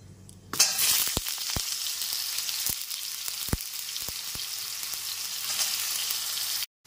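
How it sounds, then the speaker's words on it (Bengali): Ridge gourd pieces drop into hot oil in a pan and burst into a loud, close sizzle that holds steady, marked by a few sharp clicks and taps of a utensil, ending abruptly. "এইবার কেটে রাখা ঝিঙের টুকরোগুলোকে দিয়ে দিচ্ছি।"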